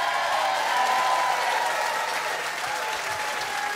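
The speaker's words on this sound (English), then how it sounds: "Give the band a round of applause" Steady applause from a concert audience for the band backing a 2013 live performance of a soul classic, a dense continuous wash of clapping at even loudness with no voices on top.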